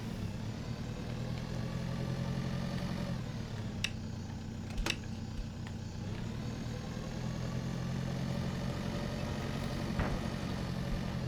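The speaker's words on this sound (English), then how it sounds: "I need to take my other tractor up north to the orchard" A tractor engine idles steadily in a farming video game, a low constant hum with a few faint clicks and brief sharp taps partway through.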